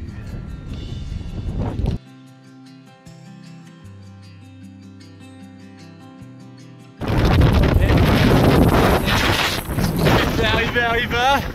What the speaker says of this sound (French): Il pleut, il y a du vent de ouf.